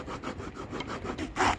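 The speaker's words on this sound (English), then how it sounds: "sawing it with a coping saw was pretty easy" Coping saw cutting through a vape battery tube, a steady back-and-forth rasp of repeated strokes close up, ending with a louder, harsher final stroke.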